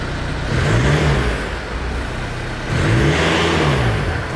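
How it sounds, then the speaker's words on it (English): Volkswagen Scirocco with a custom catback exhaust and stage 1 map revving twice, each blip rising and falling in a deep, loud engine note, with a steady idle hum between the revs. "It sounds a little bit deeper, and we also have more power from the free-flowing exhaust"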